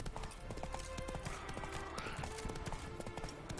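A horse's hooves clip-clop in a steady trotting rhythm on the ground in The Witcher 3: Wild Hunt, close and clear, with soft game ambience around them.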